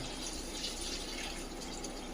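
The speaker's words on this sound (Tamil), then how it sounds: "அப்போ நம்ம 2 பாத்திரத்துக்கு தண்ணி ஊற்றணும்." Steady rushing of water pouring into a pot for cooking rice, a continuous broadband splash with no voices, close and fairly even throughout.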